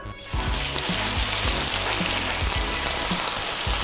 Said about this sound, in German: dann muss man das echt scharf anbraten